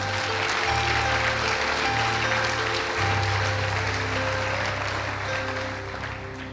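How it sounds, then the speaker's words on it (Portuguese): A church congregation applauds together in a steady, loud wash of clapping, with sustained organ-like musical tones underneath that fade slightly toward the end. "Então aplauda o Senhor Jesus."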